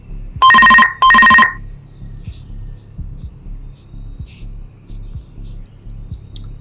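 A telephone rings twice in quick, loud electronic bursts in the Mass Effect game, then falls silent, leaving a low hum and faint scattered ambient clicks and chirps.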